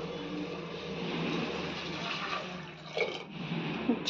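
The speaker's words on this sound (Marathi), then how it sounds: "मी तर पाणी गरम करून घेतलंय ते घालून घेऊयात" Hot water pours steadily into a spicy misal curry, a continuous close rushing and splashing that rises slightly near the end, with no voices.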